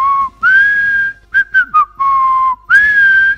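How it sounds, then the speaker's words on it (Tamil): A close, loud human whistle tracing a short melodic phrase of sustained notes and quick chirps, alone with no talking. "ஒரு விசில் சத்தம் கேட்கும் பாருங்க"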